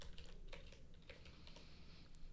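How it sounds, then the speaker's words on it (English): Typing on a computer keyboard during a programming lesson, with quick irregular key clicks in a steady stream at moderate distance over a low background hum. "I don't see what you're typing."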